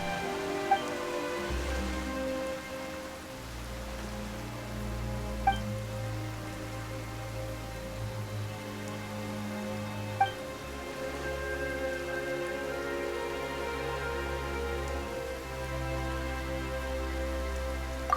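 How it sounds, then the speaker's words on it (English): Steady rain in Genshin Impact patters and hisses over a low, sustained musical drone, with a few faint clicks scattered throughout; no voices. "Why is it raining all of a sudden?"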